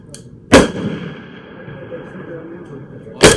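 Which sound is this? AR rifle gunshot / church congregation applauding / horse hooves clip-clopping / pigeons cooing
AR rifle gunshot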